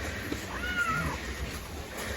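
A cat meows once, faint and slightly distant, during a rainy mountain hike in Jamaica, over steady outdoor background noise.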